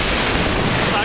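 Big waves crash onto the eastern beach at Ölüdeniz, Turkey, a loud steady wash of surf mixed with wind buffeting the microphone, close and unbroken throughout.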